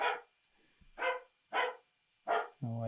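Dogs bark in greeting as someone arrives home, four spaced sharp barks with short quiet gaps between them, followed at the end by a brief whining or voiced tone.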